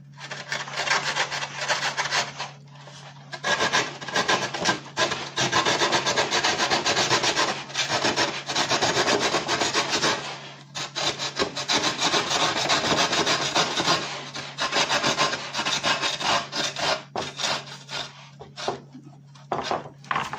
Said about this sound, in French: je me rapproche, vous passez la scie